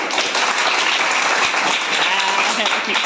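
A classroom of students claps together, a loud, dense and continuous burst of applause lasting a few seconds, with voices mixed in.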